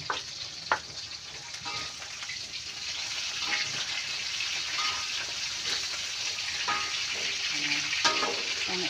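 Sliced eggplant frying in a pan with a steady, close sizzling crackle, interrupted by a few sharp stirring clicks and scrapes.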